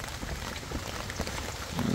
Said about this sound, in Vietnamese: nhìn mưa quá chừng mưa luôn